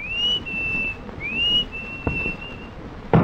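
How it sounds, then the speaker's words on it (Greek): Someone whistles a signal, two rising then steady whistle notes heard close and clear, followed by a couple of sharp knocks, with no talking. "ακούστε σφύριγμα για σύνθημα για να βγει η κόμενα από το παράθυρο"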